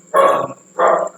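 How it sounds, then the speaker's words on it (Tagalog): Two loud, close dog barks in quick succession from dogs outdoors, heard alone with no talk over them. "May mga aso sa labas."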